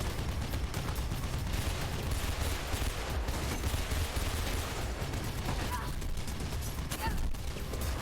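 Video game gunfire rattles in dense, continuous bursts aimed at the player, loud and close, with a voice speaking over it.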